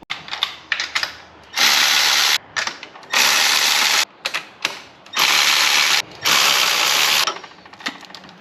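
An air ratchet zips down transmission mount bolts on a Mitsubishi Evo 8, firing in several loud, close bursts with short mechanical clicks between them and no talking.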